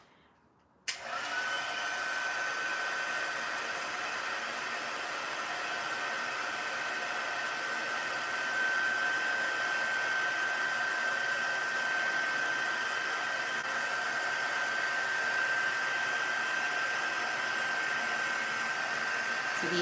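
A heat tool blows steadily over embossing powder on a single-layer card, a loud continuous hairdryer-like whoosh with a thin high whine that starts abruptly and runs unbroken.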